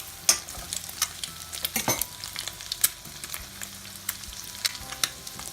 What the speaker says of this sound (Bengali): এখন এতে আমি অ্যাড করে দিব আমি যে নর্মাল রান্না করে রেখেছি কোনো তেল বা লবণ ছাড়া সেই রাইসগুলো